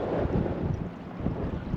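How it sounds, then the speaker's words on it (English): Wind gusting by a river while fishing, a steady rushing roar buffeting the microphone for the whole moment, with no voices. "as the wind gusts on through"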